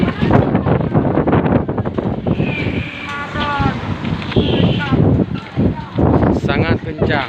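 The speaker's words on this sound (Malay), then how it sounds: "Angin kencang melanda kota Sigli." Strong wind gusting over a microphone in Sigli city, a loud steady roar with buffeting throughout, with a voice talking faintly beneath it.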